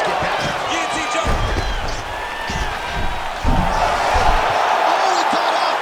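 Roaring arena crowd noise from a UFC 5 mixed martial arts fight swells as the fighters get back to their feet, loud and continuous beneath a commentator's speech.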